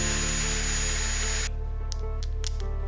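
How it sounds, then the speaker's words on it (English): Power drill boring into aluminium for a router jig base, a loud high whine for about a second and a half, then stopping, followed by a few light clicks. "Drill the aluminium."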